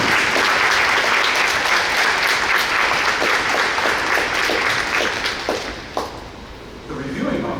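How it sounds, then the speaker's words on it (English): A crowd applauds at a Civil Air Patrol wing encampment graduation pass in review, loud dense clapping that holds steady and then fades away toward the end. "Please join me in a round of applause."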